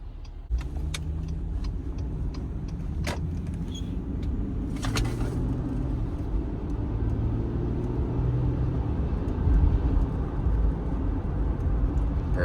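2014 Acura RDX on winter tires driving at speed, a steady road rumble and tire drone heard from inside the cabin, with faint brief clicks over the continuous hum.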